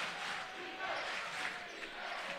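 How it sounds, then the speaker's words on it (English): A high school basketball crowd chants for defense during a playoff game, a steady dense roar of many voices filling the gym with a commentator talking over it. "The crowd getting into it with their defense chant."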